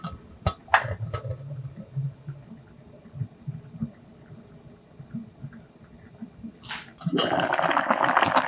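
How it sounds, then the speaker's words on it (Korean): Broth simmers gently around mackerel and sweet potato stems in a pot, with soft low bubbling and light clinks, then a louder, steady splashing pour as broth is ladled over the fish. "중간중간 국물을 고등어 위에 끼얹어 줍니다."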